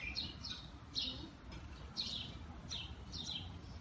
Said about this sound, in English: Love hearing the birds in the air.